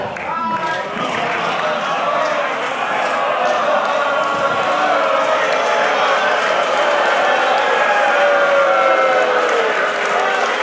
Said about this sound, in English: A lot of booing going on.